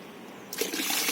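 Fresh coconut water poured into a Panchagavya mix of cow dung, starting after a brief quiet moment and running as a steady, close splashing stream.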